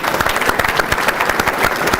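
A crowd applauds at a county government State of the County event honoring commissioners and row officials, steady dense clapping filling the room throughout.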